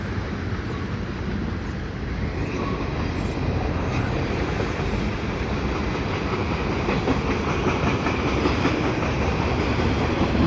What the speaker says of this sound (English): It's like a tanker train.